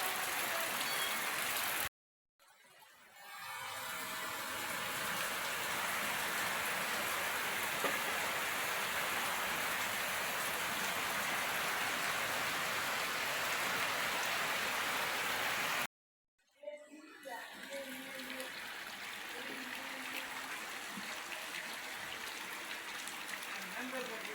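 Steady, dense monsoon rainfall in the Konkan countryside roars throughout with gusty wind noise, broken by two brief dropouts; a voice speaks faintly underneath.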